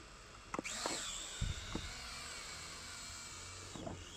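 A cheap FPV drone with a 4K camera, bought from AliExpress, takes off with a steady high-pitched motor whine that holds throughout, broken by a few brief knocks and bumps nearby.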